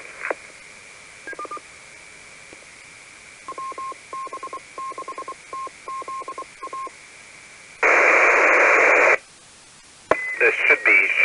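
Amateur radio audio with a steady carrier tone, clusters of short beeping data tones, then a loud burst of broadband digital-mode data noise and more chirping tones.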